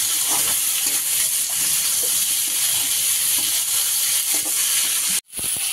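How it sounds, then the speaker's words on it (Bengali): Masala of spices and green chillies being sautéed in a pan for a prawn and banana-flower curry, giving a steady, close sizzling hiss with faint stirring scrapes, no talk over it, briefly cutting out near the end. "এবারে মশলাটা একটু কষিয়ে নেবো।"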